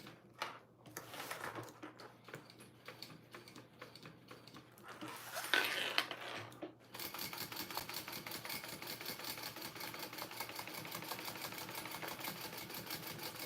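A home sewing machine runs a steady mechanical stitching chatter while sewing double seams on a Park Mini Backpack through thick strap material, the motor hum continuing evenly after a brief pause and rustle.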